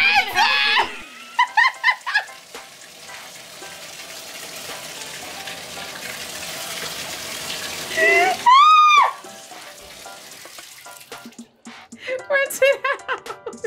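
Tap water running steadily into a sink while Gorilla Glue is rinsed out of a girl's hair, a continuous splashing hiss under excited overlapping talk and shouts that break in at the start and end.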